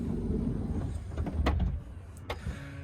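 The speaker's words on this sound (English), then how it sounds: "Let's close the door to show you what it looks here." A door closing on a VW ID Buzz electric minivan, heard from inside the cabin as a muffled mechanical slide and thud over a low rumble, followed by quieter ambience with no talking.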